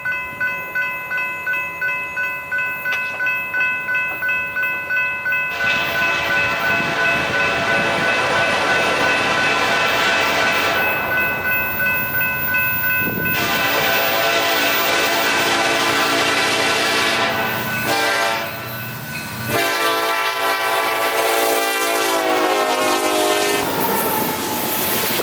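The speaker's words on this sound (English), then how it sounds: "We stop here to catch our train, which is now traveling at 50 miles per hour." A Union Pacific SD70ACe locomotive hauls a train past at 50 mph, with sustained horn blasts over a loud, close rumble and a rhythmic clickety-clack of wheels on the rails.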